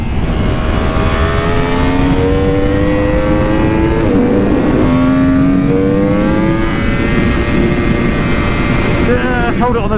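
A modified road motorcycle converted for track racing drones loudly and continuously at high revs, its engine tone climbing and dipping slightly as if held near the limiter, with rushing wind noise throughout.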